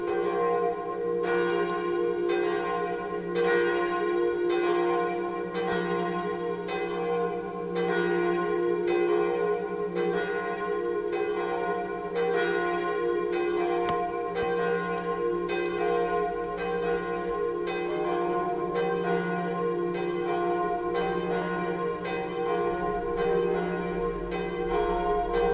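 Church bells ring in a repeating sequence, regular strikes overlapping into a loud, continuous, resonant peal that carries on without pause.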